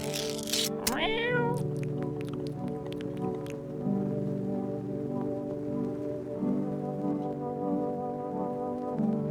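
Inside a video game, a cat lets out a loud rising meow and then drawn-out, wavering yowls that run for several seconds, heard close and with no talking.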